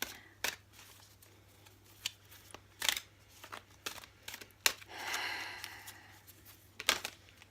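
Tarot cards are clumsily shuffled and handled close up, producing a scattered series of sharp snaps and flicks with quiet gaps between, plus a longer riffling swish midway.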